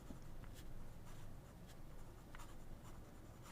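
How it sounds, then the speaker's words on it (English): Fountain pen fitted with a Pen BBS calligraphy nib scratching across paper, a faint close-up scrape with short strokes at an irregular pace. "if it skips, it's because I don't know how to write with these things"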